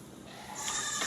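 Goats bleating in a field, a couple of calls rising partway through and near the end, fairly close over a steady outdoor background.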